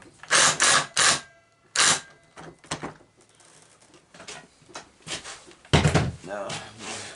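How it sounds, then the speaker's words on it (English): Screws driven into a wooden reptile enclosure board with a power driver, several short loud whirring bursts separated by pauses, close up, with a few clunks and some talk between them. "Sink some screws in there."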